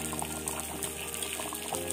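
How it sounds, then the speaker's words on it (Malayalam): Karimeen fish curry, made with ground mango, tomato and coconut, bubbles and burbles at a steady boil in a pot, close and continuous with soft popping. "കറി തിളച്ച് വന്നിട്ടുണ്ട്."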